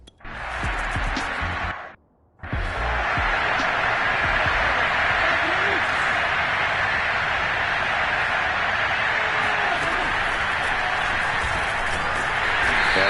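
A stadium crowd roars steadily in a football video game, a broad, loud wash of cheering that cuts out briefly and then swells back, with commentary running over it.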